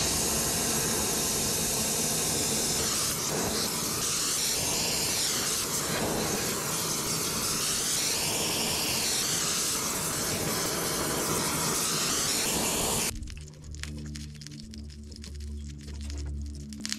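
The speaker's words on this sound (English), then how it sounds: "Nothing like the smell of sizzling seals." Loud, steady hissing sizzle of hot hydraulic seals on a CAT D3 bulldozer runs continuously for most of the clip, then cuts off abruptly, leaving quieter mechanical rattling and low rumble.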